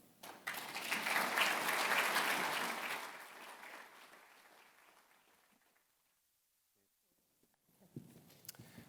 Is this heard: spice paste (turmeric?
no